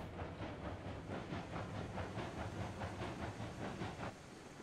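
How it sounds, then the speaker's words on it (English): A steam locomotive in the Railroads Online game spins its wheels on a hill, giving rapid rhythmic chuffing bursts of hissing steam, steady and fairly faint, with no talk. "This poor engine is now spinning its wheels wildly."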